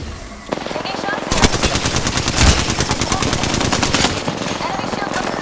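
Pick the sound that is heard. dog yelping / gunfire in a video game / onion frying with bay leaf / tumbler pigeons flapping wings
gunfire in a video game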